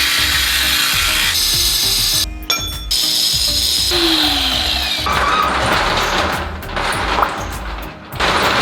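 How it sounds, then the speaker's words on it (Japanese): A disc sander cuts through a metal partition at the bottom edge of a garage shutter, making a loud, continuous, close grinding whine that shifts in pitch and breaks off briefly a few times. "それをサンダーでカットしてからシャッター下ろしたいと思います"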